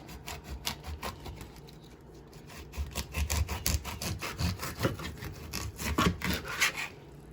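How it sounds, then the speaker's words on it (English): A knife slices down the middle of a steamed artichoke, giving a close, rough scraping and crunching rasp in repeated strokes over several seconds with no voices. "Slice it right down the middle."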